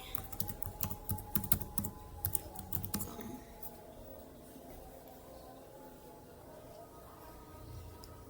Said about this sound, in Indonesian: Kita ketik yang